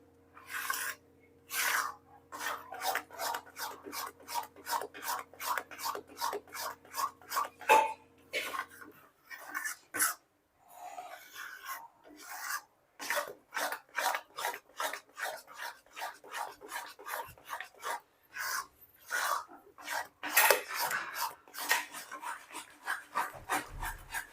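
A spoon scrapes through urad flour being roasted in a pan for adadiya pak, making rhythmic, close scraping strokes. They repeat steadily, pause briefly midway, then resume at a quicker pace, with no voices.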